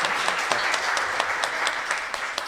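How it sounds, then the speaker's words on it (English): An audience applauds at a school quiz quarterfinal, a steady, dense wash of many hands clapping together with no pauses, fairly close and lively throughout. "Warmer were the first to clap there."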